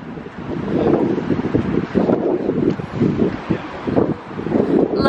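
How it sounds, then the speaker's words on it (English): Heavy wind buffets an uncovered microphone at the beach in low, rumbling gusts that swell and ease, with faint surf behind. "Might get a bit windy on here, very sorry. It's already a bit windy, I think."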